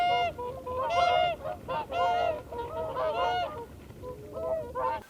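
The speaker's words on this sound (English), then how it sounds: "When it comes to the Hooper Swan's call, it's a very high, vocal, deep, bugle-like sound." Whooper swans giving bugle-like honking calls, several loud, repeated trumpeting notes in irregular bursts with short gaps between them.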